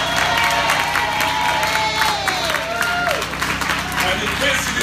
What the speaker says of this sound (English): So let's give HUD another round of applause.